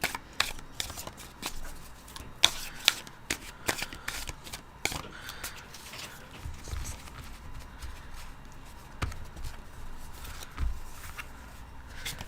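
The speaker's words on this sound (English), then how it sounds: "Let's pick some tarot cards for you guys." A deck of tarot cards is shuffled by hand up close, producing quick riffling and flicking bursts and soft card slaps in an irregular rhythm, with no talking.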